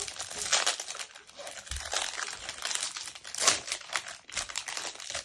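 A plastic biscuit bag is crinkled and torn open up close, with repeated sharp crackling bursts and rustles of the wrapper in irregular bursts, loud and alone.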